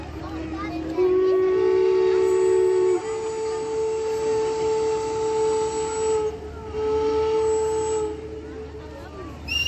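A long steam whistle from the 1910 paddle steamer La Suisse sounds loud and steady over a hissing, rumbling background during a naval parade at Vevey, holding for several seconds before fading.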